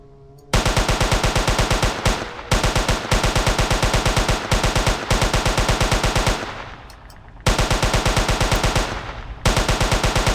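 SMG fire at the dinosaur Omega-09 in the video game Jurassic Park Hunter Legends: loud, rapid, continuous automatic bursts, several long strings broken by brief pauses.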